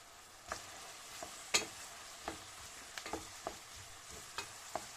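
Onions fry quietly in a pan for a beef sauté, a soft sizzle running underneath as a spoon scrapes and stirs in about nine separate strokes, close by with no voices.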